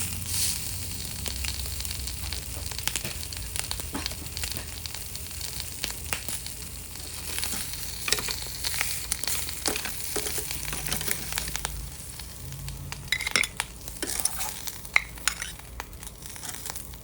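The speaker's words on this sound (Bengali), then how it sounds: "এখন আমি গরম গরম প্যানে আমাদের বাকি যে 3টে টুকরো ছিল সেগুলো আমি দিয়ে আমি কুইক একটা গ্রিল করে নিচ্ছি" Pieces of meat frying in ghee in a hot pan, sizzling and crackling steadily with irregular pops and spatters. The sound is close and continuous, and no one speaks.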